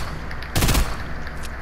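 Gunfire in a video game hits an enemy base, a short loud burst of rapid shots that lasts about a quarter second. A steady game background sound runs underneath.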